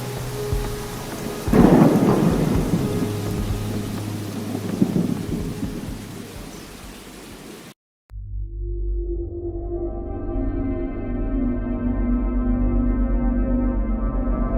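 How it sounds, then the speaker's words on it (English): Rolling thunder rumbles and cracks through a steady rain, followed by a deep, heavy, sustained roar that swells into a loud, continuous rumble. "Thunder echoed as he vanished inside"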